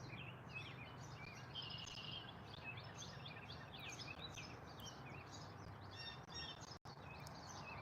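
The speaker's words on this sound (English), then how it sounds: "I can hear the birds." Birds chirp and twitter faintly outdoors over a steady low hum, with repeated short tweets scattered throughout and no voices.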